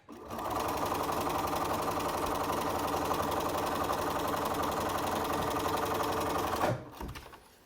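Sewing machine runs in one steady, close, continuous burst stitching a curved seam on stretchy fabric for a hospital-style face mask, stopping abruptly near the end with a brief mechanical clunk.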